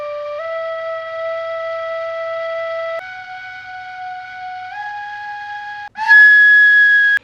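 A breathy flute-like tone from a plastic pipe overtone flute holds steady notes, stepping upward in pitch a few times, with a final higher, louder note, played alone.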